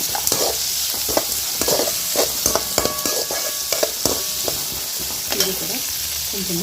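Onions sizzle in a hot pan while a utensil scrapes and stirs, with clicks and clatters over a steady frying hiss.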